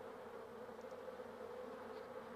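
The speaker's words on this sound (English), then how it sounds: "Vigorous fanning of the wings produces currents of air which evaporate the water" A soft, steady hum of many honeybees fanning their wings together in the hive, continuous and faint, with no other sounds.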